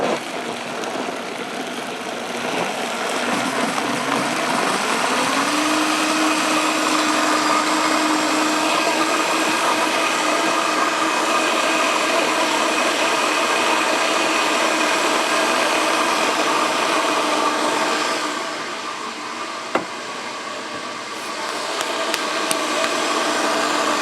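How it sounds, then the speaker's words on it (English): A countertop blender whirs steadily while blending banana crepe batter, its motor loud and continuous for about twenty seconds, rising in pitch once the blades spin up and then winding down near the end, with no talking. "So we're gonna go ahead and stick this on our blender. We're gonna blend this up until it is smooth and hopefully very creamy."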